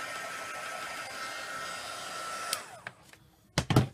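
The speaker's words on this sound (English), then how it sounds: "give it a final wipe and give it a bit of a waz with the heat gun just to make sure that it's all" A heat gun blows hot air over stamped tissue to dry it: a steady, fairly loud airy whoosh for about two and a half seconds, then it shuts off and a few sharp knocks and clatters follow.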